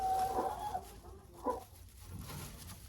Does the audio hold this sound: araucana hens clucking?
yes